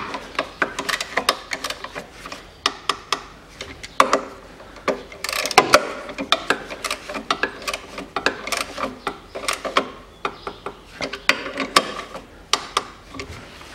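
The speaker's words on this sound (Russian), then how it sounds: "теперь можно и эти болты подтянуть" Ratcheting wrench tightening the gearbox mount bolts on a 2001 Daewoo Nexia 1.5 with a manual transmission, rapid clicking bursts in steady repeated strokes, close and fairly loud with no talk.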